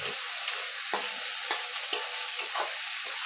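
Tomato, curry leaves and turmeric are stirred in a hot pan while making vermicelli upma, with a bright continuous sizzle broken by regular spatula scrapes about every half second, close and unaccompanied by speech.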